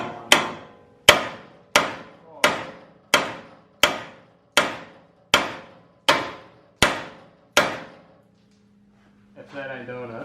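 Hammer blows on a stuck stud that has been heated, eleven loud, evenly spaced metallic strikes ringing out one after another, followed by a brief pause and a voice at the end.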